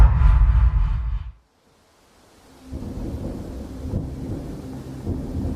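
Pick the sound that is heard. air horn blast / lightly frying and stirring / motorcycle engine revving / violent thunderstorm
violent thunderstorm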